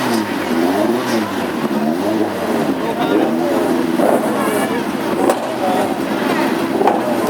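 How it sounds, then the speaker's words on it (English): A Mark II Ford Escort hot rod with a Pinto engine revs loudly in the pits at Wimbledon Stadium. The engine rises and falls in repeated surges for several seconds, close up and throaty. "And a delicious sound emitting from the back of Gary's Pinto engine powered Mark II Escort."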